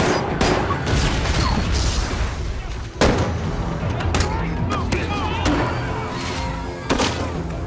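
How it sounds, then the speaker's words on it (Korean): A bus explodes in an action movie attack on the White House, with loud booms and gunfire-like bursts crashing repeatedly through a chaotic, dense battle mix while voices talk over it. "그때 갑자기 버스가 폭발합니다."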